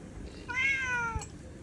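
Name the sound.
cat meowing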